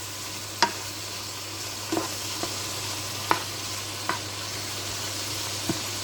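Kalamansi-marinated shrimp simmer in a pan, giving a steady soft bubbling sizzle with a few sharp clicks of a utensil stirring against the pan at irregular intervals, close and moderately quiet with no talking.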